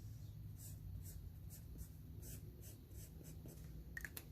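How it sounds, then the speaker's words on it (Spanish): A marker colouring on paper while filling in a weekly budget sheet: a soft, close series of rhythmic scratchy strokes, repeating roughly every half second under a low background hum. "se me olvidó colorear aquí"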